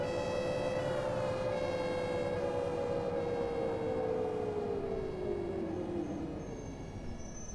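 A wailing ambulance siren in the OMSI 2 bus driving simulator, one loud, sustained tone sounding alone that slowly sweeps downward in pitch and holds close by.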